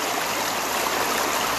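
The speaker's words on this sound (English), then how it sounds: "Your objective is to get the water coming off from the end of the skid plate entering the capture tray" Water pouring off the end of a skid plate into the capture tray of a gold trap sluice, a steady rushing, splashing flow heard close and continuous with no speech.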